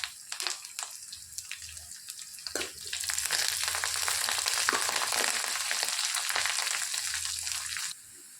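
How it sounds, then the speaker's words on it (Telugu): A tempering of dried red chillies and curry leaves frying in hot oil, popping and crackling in short bursts at first, then settling into a steady, close sizzle that cuts off near the end. "తాలింపు అనేది చక్కగా ఫ్రై అయిందండి."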